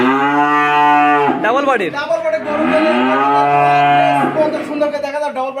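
Loud, drawn-out moos of large, heavy-bodied cattle fill the recording, deep bellowing calls that rise and fall in pitch, close by, with no talking.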